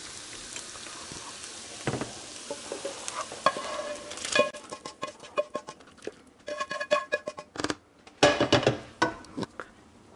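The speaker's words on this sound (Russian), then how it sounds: "И теперь я все это отправляю в кастрюлю." Sautéed onion and carrot are tipped from a pan into a soup pot of cauliflower and broccoli soup, with scraping, stirring clatter and wet sizzling bursts in irregular clusters, loud then quieter.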